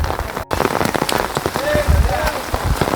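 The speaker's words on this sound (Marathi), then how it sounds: "तर मित्रांनो फायनली पाऊस आला आहे" Heavy rain pours onto village fields near a bridge and embankment, a dense close patter of drops striking surfaces, with a brief cut near the start and faint voices underneath.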